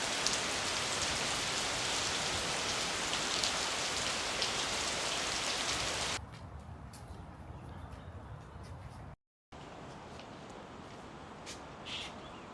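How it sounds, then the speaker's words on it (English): Heavy rain pours down across a campus in China, a dense, loud, steady wash of drops on surfaces, then it suddenly eases to a lighter patter with faint birds and occasional drips. "That was some good rain."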